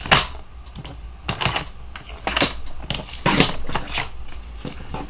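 Scissors snip through a piece of white paper in a quiet crafting setting, a series of sharp, close crisp cuts in irregular rhythm, each a short bright burst with gaps between.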